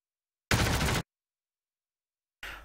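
Two bursts of rapid aircraft gunfire strike a Focke Wulf in World of Warplanes: a dense half-second rattle, silence, then a second burst beginning just before the end.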